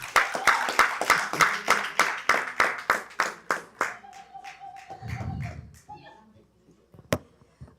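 Audience hands clapping at an Eastern Africa filmmakers summit launch, a sparse group of claps in a loose steady rhythm that fades out within a few seconds, followed by a low murmur and a single late clap.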